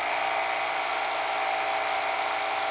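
A Rupes HLR75 Mini iBrid polisher runs at its single fixed speed, giving a loud, steady high-pitched whine with an even, unchanging tone throughout and no voices.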